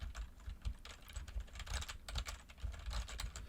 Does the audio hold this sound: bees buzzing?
no